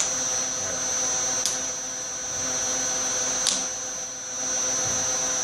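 A Bridgeport milling machine runs in reverse feed, giving a steady, even mechanical whine with constant hum, plus two sharp faint ticks about two seconds apart; no one speaks.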